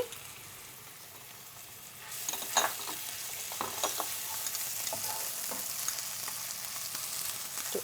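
Garlic paste sizzles in hot oil in a pan while a spoon stirs it, giving a steady close frying hiss with irregular scraping knocks.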